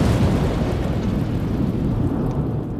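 A huge explosion of a burning ship at sea in a wartime Atlantic documentary: a sustained, loud, rumbling roar with crackling texture, steady throughout and heard without speech.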